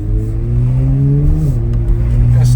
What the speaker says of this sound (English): I love the sound of that flat plane crank engine.